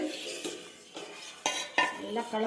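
A spoon stirs a watermelon jelly mixture in a bowl, scraping and clinking against the sides in several distinct strokes, close and fairly crisp, with no one talking.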